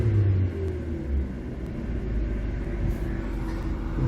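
A 2020 Chevy Equinox with a reduced-engine-power fault runs close by, a steady low rumble that swells slightly as the throttle opens, with no talking over it.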